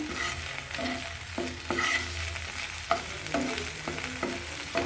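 Chopped garlic fries gently in a pan while cooking snakehead fish, a low sizzle punctuated by regular scraping strokes of a spatula stirring it, close and without any speech.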